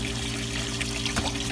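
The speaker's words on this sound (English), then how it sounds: "I'm going to turn this valve on, cold water," Water gushes steadily from opened cold and hot water valves, a continuous loud rushing flow with a faint pump-like hum beneath, no voices.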